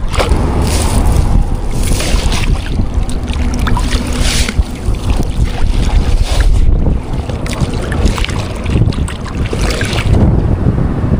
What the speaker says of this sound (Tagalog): Ngayon po ay uwi na tayo. Malakas na rin yung hangin.